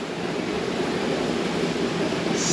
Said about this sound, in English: the little waterfall over the other side here